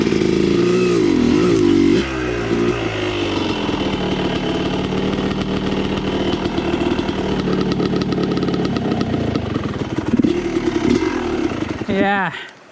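Motorcycle engine running steadily and loudly while a bike is ridden near creeks, with gear changes and revving near the start and again near the end, under a faint voice.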